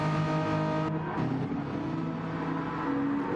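Gr.4 McLaren race cars at Laguna Seca in Gran Turismo give a steady, loud, sustained engine drone, with several overlapping revving tones that shift in pitch as the cars hold speed, without speech.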